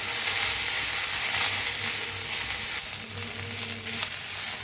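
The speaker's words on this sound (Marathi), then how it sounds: "कोथांबरी आता हलवून आणि एक मिनिटभर भाजून घेऊया" Coriander, green chillies and garlic roast in a hot pan for a chilli-onion thecha, with a dense, continuous sizzle close by and soft stirring movements throughout.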